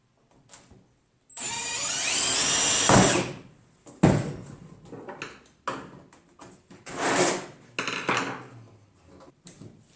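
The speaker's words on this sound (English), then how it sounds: "Drill all the way through." A loud, high-pitched whining drill bores all the way through the metal of a meat smoker, running steadily for about two seconds, then gives way to scattered clanks and metallic handling noises.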